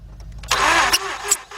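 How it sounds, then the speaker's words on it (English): A 2006 Mazda 6 engine being cranked without starting, producing a short burst of loud, close starter whirring that stops abruptly, followed by a couple of clicks. "All right, crank it."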